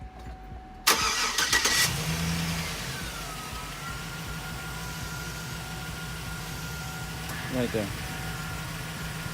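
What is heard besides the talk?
Chevy Silverado truck engine starting and idling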